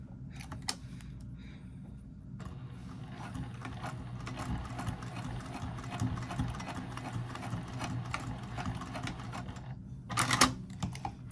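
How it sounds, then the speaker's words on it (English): A sewing machine top stitches along the seam of a small triangle pyramid wristlet pouch, running as a steady, fairly close mechanical whir with fine rapid ticking for about ten seconds, rising briefly louder near the end. "fold this open and top stitch it at 1/8 inch"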